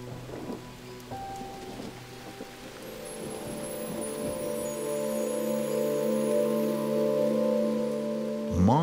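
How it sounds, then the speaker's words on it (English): Monsoon rain falls over the Singapore Botanic Gardens as a steady, dense hiss that gradually builds in loudness, with deep rumbling tones layered underneath and a swelling surge at the very end. "Monsoon rain, filling the garden's veins with fresh water."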